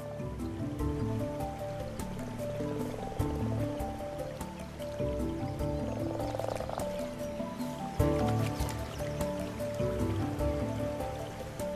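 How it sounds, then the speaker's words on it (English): A dense chorus of common frogs croaks continuously over trickling, lapping shallow water, many voices layered near and far. "The shallow water fills with frogs and their spawn."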